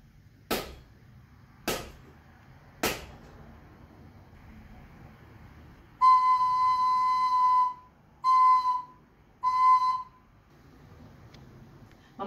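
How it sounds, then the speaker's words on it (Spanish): Three short sharp clicks or taps, then a slide whistle sounds three clear sustained tones in a simple rhythm, one long and two shorter, near and fairly loud in a quiet room. "Hemos escuchado con la flauta el siguiente ritmo."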